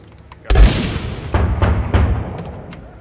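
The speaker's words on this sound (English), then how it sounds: "I'm gonna peek this with my grenade launcher" A grenade launcher fires in the Six Days in Fallujah combat game: one loud close blast with a rolling boom, then several heavier thuds and echoing rumbles that fade quickly.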